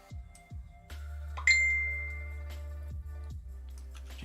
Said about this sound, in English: Apologies for my random phone notification being at several thousand decibels